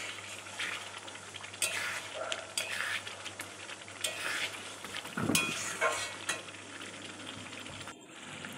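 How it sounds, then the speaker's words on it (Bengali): Spice paste with dried red chillies sautéing and being stirred in a pan while making ghugni, a soft steady sizzle broken by repeated scraping strokes of the spoon, fairly close and moderately loud. "এবার ভালো করে একটু কষিয়ে নেব।"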